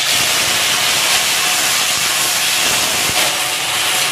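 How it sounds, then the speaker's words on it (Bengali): Nali leaf fritters, salted and turmeric-seasoned, fry in a little oil in a hill village kitchen, giving a steady, close, unbroken hiss and sizzle throughout with no talk. "নালি গাইটা ভেজে নেব।"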